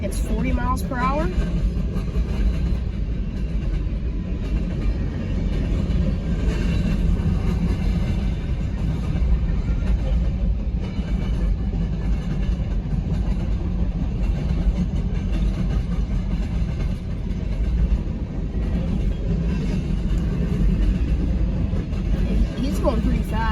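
A BNSF empty coal train passes fast behind its locomotives, a loud continuous rumbling roar of wheels and engines that holds steady for over twenty seconds, with voices mixed in.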